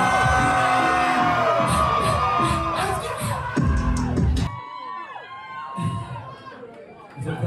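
A large crowd at a rally cheering and whooping loudly, with shouts rising and falling, then thinning into scattered voices and yells.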